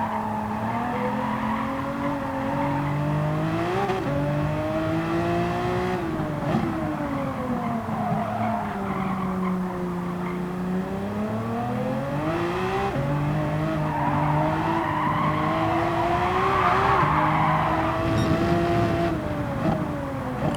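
Race car engine in Gran Turismo 7 rising and falling through gear changes while braking into tight, slow corners and accelerating out, with tire squeal, loud and continuous throughout.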